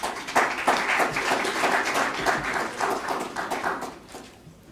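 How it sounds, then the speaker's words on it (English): Conference audience applauding after a pitch competition introduction, a dense, steady wash of many hands clapping that fades slightly toward the end, with no talking. "Let's give him a round of applause."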